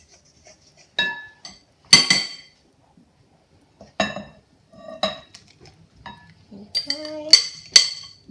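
Chocolate raspberry pudding batter being mixed in a bowl, made for an air fryer: sharp utensil clinks and scraping strokes against the bowl come in separate bursts with quiet gaps, close by, and a voice speaks briefly.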